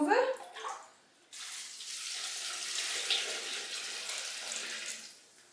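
Liquid poured over cut apples in a container for preparing apple juice or cider vinegar: a short clatter, a brief pause, then a steady, close splashing pour that fades out at the end.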